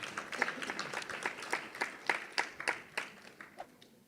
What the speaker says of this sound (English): Round of applause for Project Detector.